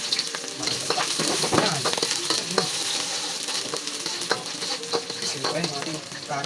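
Chopped onion and garlic sizzle and fry in a hot pan for pochero, a steady crackling hiss with occasional stirring scrapes, close and continuous with no talking.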